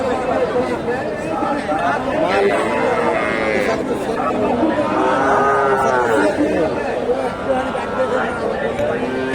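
A Friesian cross bull at a busy cattle market lows loudly in long, drawn-out moos amid a constant din of crowd chatter and other livestock.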